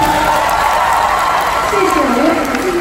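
Concert crowd at a centenary celebration claps and cheers, a broad wash of applause with scattered whoops, loud and close, with a voice speaking over it.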